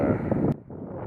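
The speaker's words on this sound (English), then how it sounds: "It is so windy right now." Strong wind at a lakeside fishing spot on Trojan Lake, Oregon, buffets the microphone with a loud, close rumble that cuts off abruptly halfway, then returns as a softer blustery rush.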